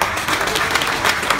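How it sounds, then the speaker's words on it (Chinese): Theater audience applause, a steady dense wash of many hands clapping, loud and continuous throughout with no voices over it. "掌声也特别的热烈呀"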